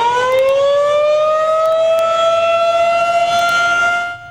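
An outdoor storm warning siren wails loud and steady, its tone rising slowly and holding for several seconds, then cutting off near the end, with no voices.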